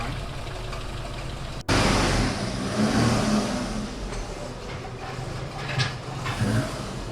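A 1979 Opel Kadett C with a 1.2 engine on a test drive. After a brief cutout the engine returns loud and close, with a steady rev and mild swells in pitch and no talking.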